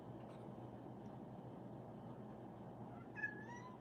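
A cat gives a single short meow near the end, fairly faint, over a steady low background hum.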